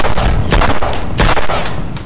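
Loud, close gunshots from the mobile shooter game Sierra 7 as a headshot lands, several sharp cracks with booming tails in quick succession.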